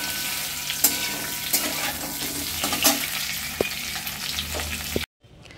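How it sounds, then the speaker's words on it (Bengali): Eggs frying lightly in a pan over a cumin tempering for a Bengali egg curry give a steady close sizzle with scattered crackles and pops. No one speaks, and the sound cuts out abruptly at the end. "ডিমগুলো একটু হালকা ভাজছি"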